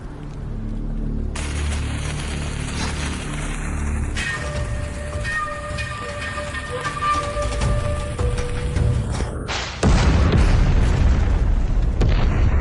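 Gunpowder explosion as a deep boom and rumble that builds over several seconds, with ringing metallic tones in the middle and a louder burst near the end, heard alone.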